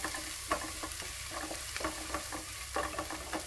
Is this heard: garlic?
yes